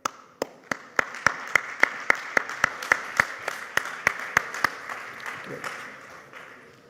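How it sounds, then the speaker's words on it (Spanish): Audience applause welcoming a speaker at a wine tourism conference, a steady run of sharp rhythmic claps in unison that slowly fades into scattered room noise. "recibamos con un aplauso a Gergely"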